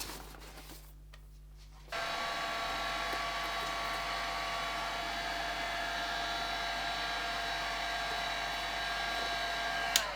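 A heat gun blows hot air into the inside of a foam crown, switching on after a short quiet start into a steady, close whirring hiss that holds evenly to the end.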